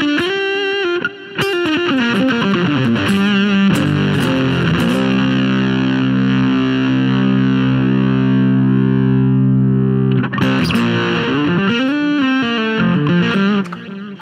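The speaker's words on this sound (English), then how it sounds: "Here's how it sounds with the fuzz dimed." Electric guitar through an Espresso Effects Silicon Fuzz pedal with the fuzz fully dimed, loud thick distorted chords and sliding notes ringing close, sustaining heavily with a brief pause near the end.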